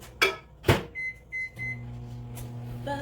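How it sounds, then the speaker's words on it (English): A microwave oven runs with a steady low hum while butter melts inside, after a couple of loud door clunks and a few short beeps from the keypad. "Let me go melt this in the microwave really quick"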